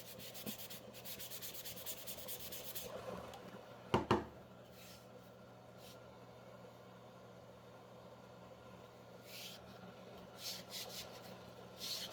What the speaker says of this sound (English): I had already planned to take a finer grit sandpaper to that